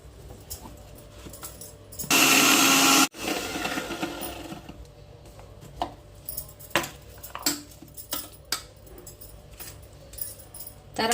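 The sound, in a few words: mixer grinder grinding onion and tomato paste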